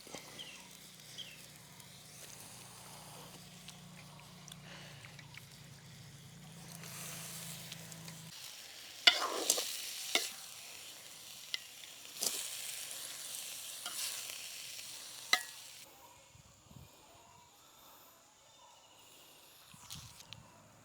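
Onion and green chili sautéing in a pan in a Sri Lankan Tamil village kitchen, with a low steady sizzle early on, then scattered scraping stirs and clatters of a utensil against the pan, fairly close.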